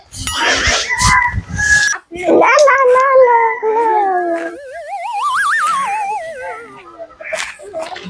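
A dog whimpers and howls in long rising and falling wails, loud and close, with voices of people talking before and around it in a North Karnataka home setting.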